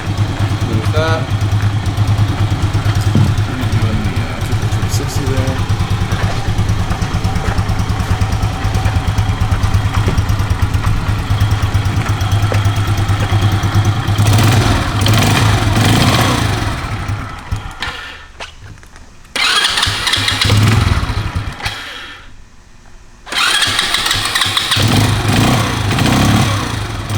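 A 2016 Kymco K-Pipe motorcycle engine idles steadily and fairly loudly up close, with a couple of brief drops and pauses late on as the engine cuts and restarts.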